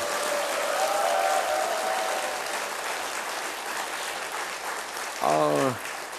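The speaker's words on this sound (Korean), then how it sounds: "우리 존경하는 신강호 목사님 하단하시는데 축복의 박수 한번 부탁합니다." A church congregation applauds a departing pastor stepping down from the pulpit, with sustained, fairly loud clapping throughout, a voice briefly audible early on and a short vocal outburst near the end.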